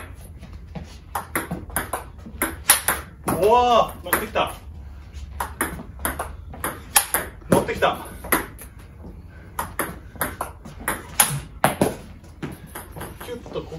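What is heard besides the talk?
table tennis ball hit with Omega VII China rubber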